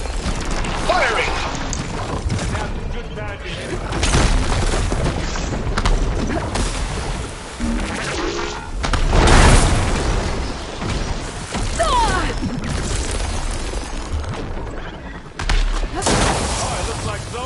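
Gunfire and heavy explosions from Zoe's supporting fire in Horizon Forbidden West, a loud rolling mix of bursts and booms running under ongoing talk, with a strong blast near the middle.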